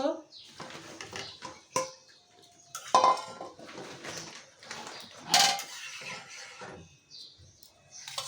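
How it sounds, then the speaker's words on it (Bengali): Snakehead fish dropped into a pot of boiling curry with fried taro, giving a few sharp clattering splashes and metal pot knocks amid bubbling, with kitchen clatter around them. "এখন আমি মাছগুলো দেব।"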